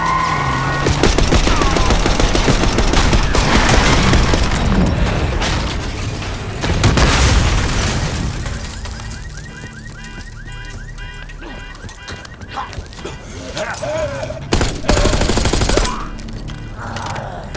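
Call of Duty Black Ops 6 firefight on a street as a limo approaches: dense bursts of automatic gunfire and booms, loud and close, easing to sparser shots and mechanical clatter before a final heavy volley.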